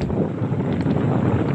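Steady wind buffeting a microphone on a beach, a loud continuous low rumble with no gaps and no talk.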